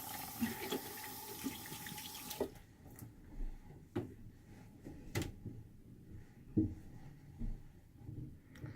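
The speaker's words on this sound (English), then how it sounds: "I'm gonna wash my hands" A running tap pours over hands being washed at a sink, a soft steady splash for a couple of seconds that then stops, followed by faint clunks and handling noises.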